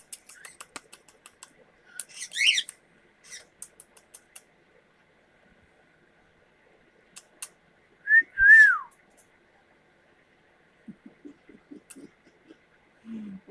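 A pet baby bird gives sharp whistles, rising and falling squeaks and chirps in scattered bursts separated by silences, close and clear, with a short raspy squawk near the end.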